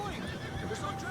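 A horse whinnies in Red Dead Redemption 2 on PS5, a short, moderately close neigh over soft hoof clip-clop, lasting about a second.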